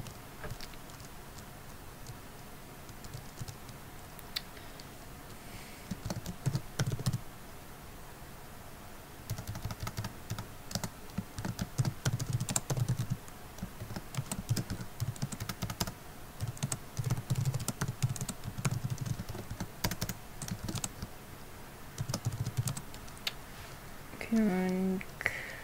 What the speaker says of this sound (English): I'm not actually typing anything, I'm just tapping keys.